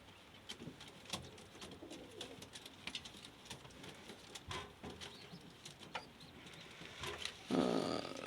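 Pigeons coo softly and steadily in a loft, with light rustling and faint flutters around them.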